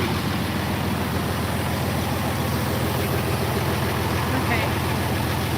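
An engine running with its muffler refitted, a steady, even, low idling drone that holds without change throughout.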